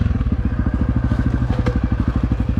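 Honda CRF250F dirt bike engine revving hard on a road, a loud, rapid, steady four-stroke pulse close to the microphone as the throttle opens through the gears.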